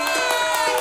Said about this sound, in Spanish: pedir un gran aplauso para un cantautor